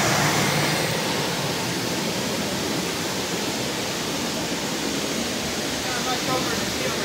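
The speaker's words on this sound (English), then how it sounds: "But you get a better view of the waterfall." A waterfall roaring as a steady broadband rush of falling water, loud and continuous for several seconds with no breaks, heard from a viewpoint on a family vacation.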